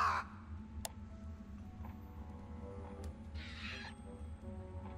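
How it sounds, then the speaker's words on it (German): A raven caws a few times, moderately clear, over a steady low ambient hum in the foggy atmosphere of the video game Surface, with no talk. "Wie kriege ich jetzt den Raben da weg?"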